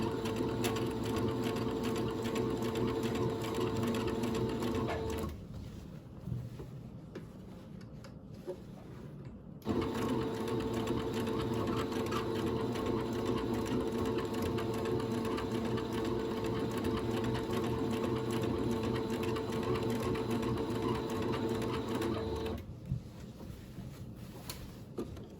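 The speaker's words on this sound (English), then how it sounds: "And continue to sew." A sewing machine stitches men's shirt fabric in long continuous runs of steady mechanical whirring, with one pause of several seconds in the middle and a quieter stretch near the end.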